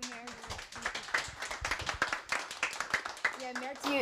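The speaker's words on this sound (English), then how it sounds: "you definitely deserve those 3 rounds of applause" Applause for a speaker at an intergenerational dialogue event: scattered, uneven hand claps from a small group, close and fairly loud, with voices talking over them.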